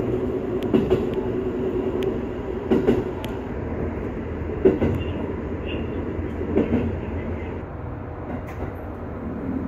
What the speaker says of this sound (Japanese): 列車は登っていきます